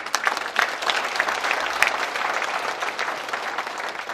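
Warm applause from a seated audience at an alumni association inauguration and New Year gathering, welcoming the former vice presidents as they stand; dense, steady clapping fills the room for several seconds with no talk over it.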